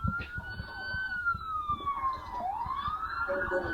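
A police siren wails during a high-speed Dodge Charger pursuit, its pitch sliding down and then back up in a long sweep, heard at a distance over faint clattering and background noise.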